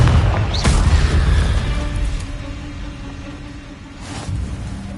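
A Confringo spell explodes in the Hogwarts Legacy video game, a fiery burst and boom at the start that fades into a rumbling tail, with a second, softer burst near the end.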